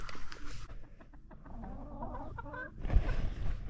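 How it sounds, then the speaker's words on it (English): Chickens cluck in a video game, several short close clucks and squawks in quick uneven bursts with farmyard rustling between them. "Chickens. Delicious chicken."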